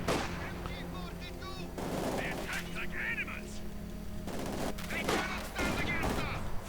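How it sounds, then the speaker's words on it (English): Machine guns rattle in Company of Heroes 2, rapid bursts of gunfire mixed with heavier booming artillery in a busy battle scene, repeating in clusters over several seconds. "Lots of machine guns though waiting in their way."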